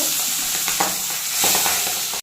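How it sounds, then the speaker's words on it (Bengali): Pabda fish fry in a pan of hot oil with a loud, steady, crackling sizzle throughout, broken by occasional stirring clicks, before it stops abruptly at the end. "আমি আরও মাছগুলো এবার ভেজে নেব"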